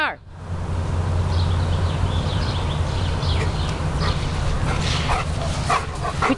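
A dog whimpers and gives short yips and barks at close range over a steady background hum, with soft voices faintly present.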